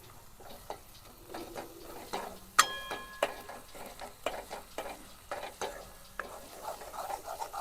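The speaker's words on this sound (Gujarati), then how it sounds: "હવે આપણે બધું સારી રીતે મિક્સ કરવાનું છે." A spoon stirs spices into tomato chutney in a pan, with soft repeated scrapes and occasional sharper clinks against the metal over a faint sizzle.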